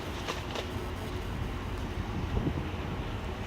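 Broadband rushing wind buffeting the microphone, steady and fairly loud, with low rumbling gusts and no voices.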